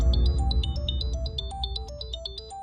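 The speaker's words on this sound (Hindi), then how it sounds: "मीठी का फोन" A phone ringtone plays a steady melodic electronic tune of repeating tones with bright chime-like overtones, loud and close, with no talking over it.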